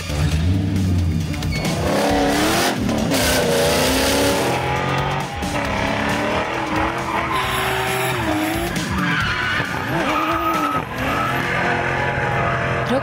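Cars in a drift championship on a high mountain field roar loudly and without a break, engines revving hard while the tyres screech and skid through long sliding runs.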